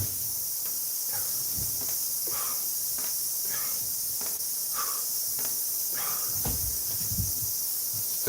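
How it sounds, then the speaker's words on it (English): Cicadas buzz outside in a steady high drone, with faint clicks and soft thuds from a garage workout scattered underneath. "I'm still not sure about all the cicada noise, whether it's peak ASMR or if it annoys me."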